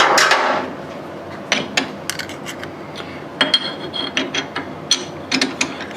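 Metal workpiece being set up in a lathe's four-jaw chuck, a run of sharp metallic clanks, ratcheting clicks and knocks at irregular intervals, close and fairly loud, with no talk.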